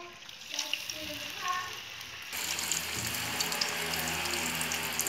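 Potatoes being lowered into hot oil for frying, the sizzle jumping suddenly louder partway through and then holding as a steady, dense crackle close by.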